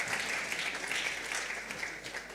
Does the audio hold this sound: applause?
yes